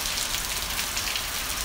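Light night drizzle falls over São José da Tapera in Alagoas, a soft, even, continuous hiss with no voices.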